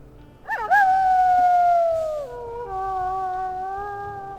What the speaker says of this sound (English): We'll go ahead and we'll listen to her howl here.